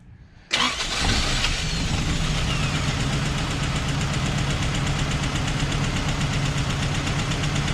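A Toyota 22RE engine cranks and catches after a brief quiet moment, then settles into a loud, steady but rough, shaking idle that keeps running close by with no talk.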